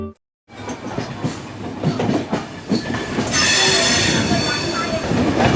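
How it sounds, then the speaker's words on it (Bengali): An express train to Mathura pulls out of a Kolkata station, loud close rumble of wagons with squealing wheels that builds and swells into a steady roar after a brief silent start. "আমাদের ট্রেন কিন্তু কলকাতা স্টেশন থেকে ছেড়ে দিয়েছে মথুরার উদ্দেশ্যে।"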